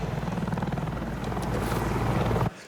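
Helicopter in the Wolfenstein II: The New Colossus video game: a loud, steady rotor thump and engine drone holds close and constant for over two seconds, then cuts off abruptly near the end.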